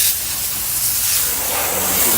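A water spray rinses a car, a loud, close, steady hissing wash of water that shifts slightly in tone as it moves across the surface.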